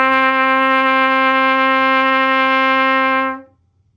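Trumpet holding a long-tone D for a lesson exercise, one steady, sustained note of about three and a half seconds, close and clear, then fading to quiet, no talk.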